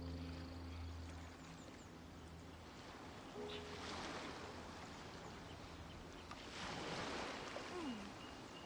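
Ocean waves in the video game Genshin Impact, a soft continuous wash of surf with gentle swells rising and fading, quiet and distant.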